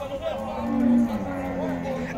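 Cattle lowing in a pen at a cattle fair in Campina Grande, Paraíba, with one long, steady moo rising and then trailing off in the middle, followed by softer lowing against a murmur of fair background noise.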